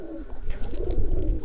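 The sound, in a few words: pigeons cooing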